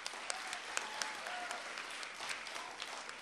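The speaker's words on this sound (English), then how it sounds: "Give contestant eight a round of applause" Applause breaks out for a contestant at the 2016 TRA spelling bee, a soft, steady patter of clapping from a modest crowd with a few sharper claps standing out.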